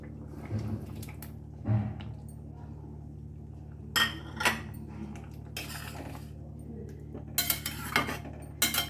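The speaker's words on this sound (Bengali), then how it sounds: "এর মধ্যে আমি ভাজা বেগুনগুলো মিশিয়ে দেব।" Fried eggplant is stirred into boiling lentil dal in a cooking pot, giving scattered metallic clinks and scrapes of a spoon against the pot. The clinks come at irregular intervals and grow busier near the end, over a low steady background hum.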